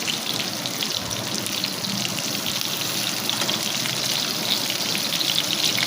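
Barracuda fish frying in a pan over a medium-low flame, a steady, dense crackle and sizzle like light rain that holds evenly throughout with no talking.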